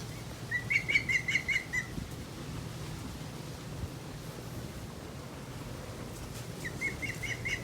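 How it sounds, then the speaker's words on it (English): A bird calls near its nest in the Florida Keys, giving a quick run of bright, evenly spaced chirps at first, then a second similar burst after a pause, over soft outdoor background noise. "We found the bird's nest of the bird that's been making all the noise"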